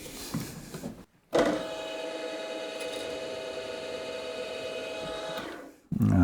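A steady mechanical whine with a sustained tonal hum runs for several seconds, starting and stopping abruptly, as a 3mm drill bores a pre-drilled hole in stainless steel at 3000 RPM.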